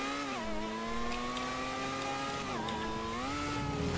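A car engine in the GTA 5 video game hums steadily, its pitch holding level and then briefly dipping and climbing as the gear or speed changes, sounding alone at moderate volume.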